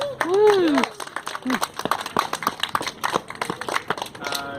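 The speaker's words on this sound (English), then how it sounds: "Let's give her a round of applause." After a singer's performance at a Roanoke Medicare for All rally, a voice rings out briefly, then the crowd claps in scattered, uneven bursts while people talk over it.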